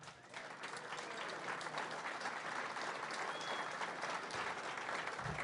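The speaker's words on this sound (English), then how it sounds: "You're clapping" An audience claps steadily at a political gathering, a dense and sustained round of applause that holds throughout without a break.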